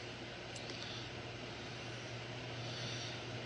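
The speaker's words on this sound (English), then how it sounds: "This is actual footage of a plane flying in the sky." A plane flying overhead, its steady engine drone a continuous low hum with broadband rumble, holding even and moderately distant throughout with no talk.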